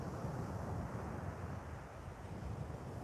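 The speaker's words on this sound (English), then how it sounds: "Sorry guys, it's very, very windy." Strong wind gusts across a beach at sunrise, buffeting the microphone in a dense, low rumbling roar that stays constant and close throughout, with no voices.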